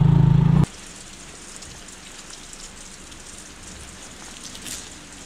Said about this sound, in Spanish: ya nos llovió, ya nos cogió la lluvia